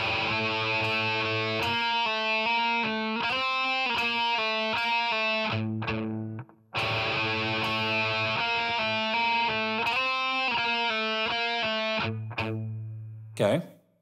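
An electric guitar plays the rhythm part of a song with a distorted tone, using palm mutes, pull-offs and hammer-ons in choppy strummed phrases that repeat twice, loud and close.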